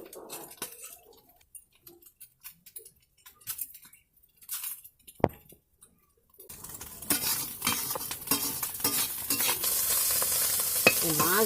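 Small fish fried slowly in a pan. A few quiet spoon scrapes and clinks come first, then the pan breaks into a loud, continuous sizzle with stirring and utensil knocks against it.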